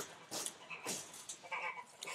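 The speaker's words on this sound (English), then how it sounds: "That's a raccoon dog having a go at Manic." A raccoon dog making harsh yapping, whining calls in a large animal enclosure, several short bursts close by, fairly faint overall.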